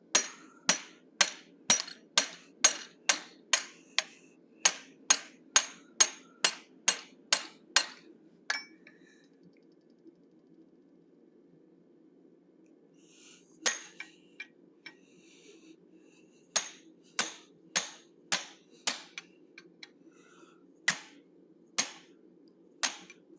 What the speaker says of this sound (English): I'm using approximately a 1/4 inch fuller, placed at the bridge of the snout, half above, half below.